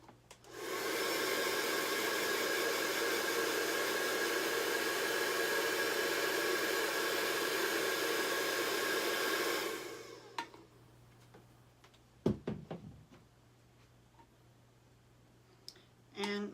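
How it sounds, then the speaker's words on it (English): A handheld blow dryer drying a handmade Christmas ornament gives a loud, steady whooshing whine for about nine seconds, then cuts off, leaving faint clicks and handling noises. "We're going to hit it with a blow dryer."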